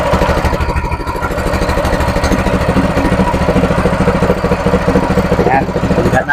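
Small water pump engine running steadily close by, a loud continuous chugging drone with no pauses.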